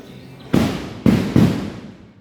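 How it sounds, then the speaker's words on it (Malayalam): Firecracker offering (vedi vazhipadu) at Chottanikkara temple: three sharp loud blasts, the first alone, then two close together, each leaving a rolling echoing decay in open air, no talk. "വെടിവഴിപാട് നടത്തുന്ന സൗണ്ടാണ് നമ്മൾ കേൾക്കുന്നത്"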